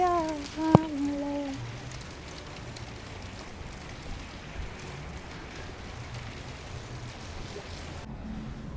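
Steady rain falls outside a showroom in France, a dense, even hiss running unbroken for several seconds after a brief voice at the start.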